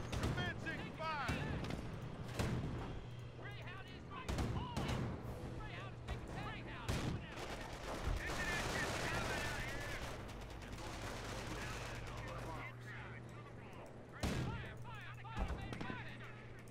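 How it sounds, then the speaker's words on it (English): Gunfire in Company of Heroes, a World War II strategy game, with dense, continuous combat: overlapping shots and heavy bangs, a steady low engine hum, and voices talking throughout. "Firing on enemy armor. Commencing fire."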